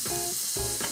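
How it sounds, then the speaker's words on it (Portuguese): Garlic sizzles steadily in the pork pan, a loud close hiss and crackle of frying with brief stirring shifts and no talk. "Vamos suar o alho aqui na própria panela"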